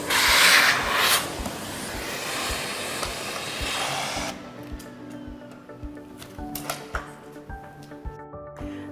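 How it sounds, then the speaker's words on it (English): A Miele vacuum cleaner fitted with an upholstery brush works over furniture, a loud steady suction roar for the first four seconds, then quieter rubbing and scraping strokes with scattered clicks as the brush moves across the fabric. "With the upholstery brush, you can easily remove lint and hair from furniture."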